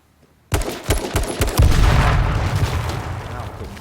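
Rapid gunfire in the video game H1Z1, a loud sudden burst of repeated shots that runs into sustained dense firing and booming noise.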